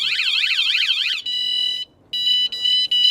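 A loud van alarm warbles rapidly up and down, then switches to steady high pulsing beeps that stop and restart in short bursts.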